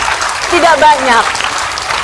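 A studio audience on an Indonesian talk show about fighting cancer gives applause for Mas Ramli: a wash of clapping under and around a raised speaking voice, fairly close and loud.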